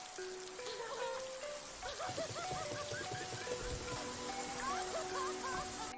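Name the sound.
rain falling in a film scene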